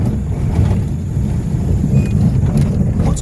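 Car crawling in first gear along a muddy rural road near Dhadgaon in Nandurbar district, a constant low engine drone and rumble with wind buffeting the microphone, no voices.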